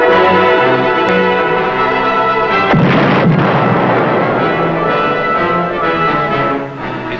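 A torpedo fired from a submarine explodes in a radio drama: a sudden loud blast rolls into a long, rumbling roar over a steady background of music and effects, slowly easing toward the end.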